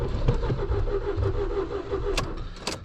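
Engine of a smoking car cranking over without catching, a steady whirring churn under a few sharp clicks and knocks, close and moderately loud.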